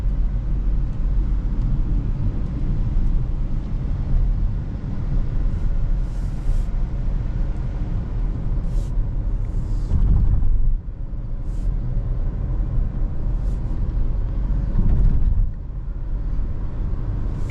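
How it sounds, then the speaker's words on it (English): A 2025 Kia Sonet GTX Plus on a hilly ghat road, heard from inside the cabin as a steady, loud drone of engine and road noise, with two brief swells near the end that suggest rev-matched downshifts. "it's so cool to hear a car's engine do rev matching"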